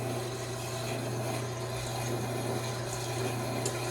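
CatGenie self-washing litter box draining its wash water, a steady gurgling, pump-driven rush with a low hum underneath, close and continuous with no voices.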